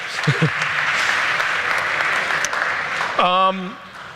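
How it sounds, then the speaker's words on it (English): Conference attendees at the 2015 P4 event in Pittsburgh give a full, sustained round of applause that fills the hall, and a speaker's voice comes in over it near the end. "give yourself a round of applause"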